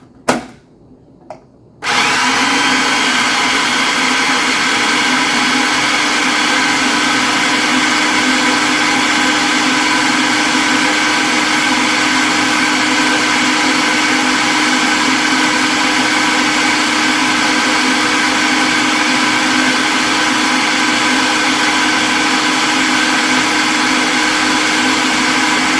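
Loud electric hand mixer whirring steadily as it blends icing with a generous amount of green food coloring, starting after a short click and brief pause, then running continuously.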